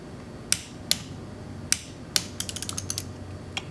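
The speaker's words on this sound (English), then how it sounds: "So we'll just torque that down." A ratchet torques bolts down on a Harley-Davidson Sportster XL shift drum, giving a few spaced sharp clicks and then a quick run of rapid clicking, close and clear over low background hum.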